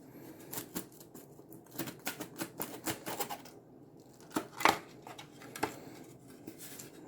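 Bands being torn off a 1970s Australian emergency flying ration pack produce sharp snapping and ripping clicks in irregular bursts, close and fairly quiet, with short pauses between them.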